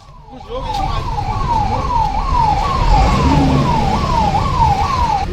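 A fire brigade siren wails in a steady, rising-and-falling cycle, loud and continuous throughout, with traffic rumble beneath it.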